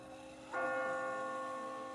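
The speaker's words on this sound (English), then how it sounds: "I just got spooked by those bells" Church bells in Telltale's The Walking Dead Definitive Edition video game: a single sudden strike rings out and sustains as a rich, ringing tone.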